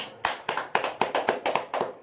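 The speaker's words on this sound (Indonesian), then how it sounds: "Tepuk tangan untuk kita" Rhythmic unison clapping from an audience, about eight evenly spaced sharp claps, loud and near, with no talking over them.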